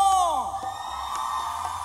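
Concert crowd in Ixtacamaxtitlán, Puebla shouting and whooping for a band at a night show, loud, sustained cheering under music and an announcer's voice over a PA.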